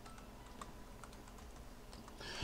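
Quick keystrokes on a computer keyboard as a folder name is typed, a light run of separate clicks across the whole moment, soft and close, ending in a louder clatter.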